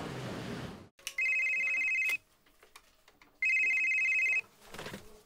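A telephone rings in two long electronic bursts separated by a pause, loud and close, with faint rustling between rings.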